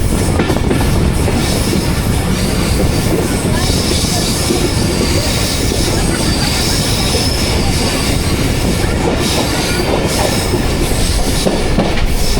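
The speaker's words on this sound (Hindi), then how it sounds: "आप देख लो कि ट्रेन पास हो रही है 40 की रफ्तार" Passenger train passing at about 40 km/h on a Pakistani main line, a loud, close, continuous roar of wheels and rattling carriages with some squealing, steady throughout.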